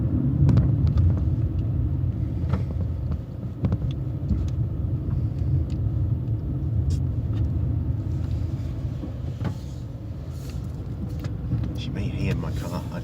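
A car idles and rolls slowly into a car park, a steady low engine rumble with light road and cabin noise, close and continuous under someone talking.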